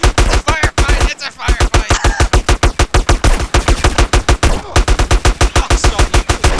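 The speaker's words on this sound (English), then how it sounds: "He's shooting at me! Firefight!" Rapid bursts of automatic gunfire in a GTA San Andreas Multiplayer firefight, loud close shots firing in fast rhythmic strings with two brief gaps.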